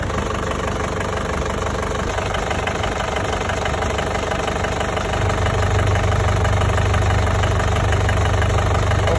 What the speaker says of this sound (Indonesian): suara mobil ini mesinnya tak tak tak tak dan juga goyang-goyang